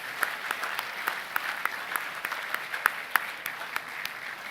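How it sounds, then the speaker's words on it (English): A school assembly audience applauding award winners, steady moderate applause with sharp individual claps standing out over a soft, even crowd patter. "I'll let you applaud these fellas."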